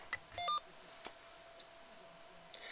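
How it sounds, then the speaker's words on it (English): A single short electronic beep from an amateur radio macro keyer confirms a saved setting, followed by a few faint clicks in an otherwise quiet room. "A single beep will save it."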